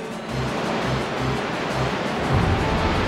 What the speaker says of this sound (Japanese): ここで波乗りだ。